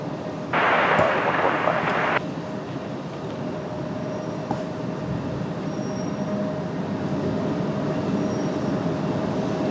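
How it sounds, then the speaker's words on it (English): A Boeing 757 jet departs runway 5R at Raleigh-Durham International in the evening, heard as a broad, steady engine roar at a distance, with a short burst of hiss near the start. "the Atari Ferrari up next. Hopefully this will be a good sounding departure"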